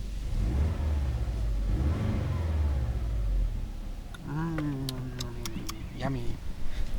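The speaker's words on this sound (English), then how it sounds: "Let's give it some vroom, despite the neighbors." Engine of a 2001 Subaru Impreza WRX STi revving up in short bursts at close range, rising and falling in pitch, with someone talking over the first half.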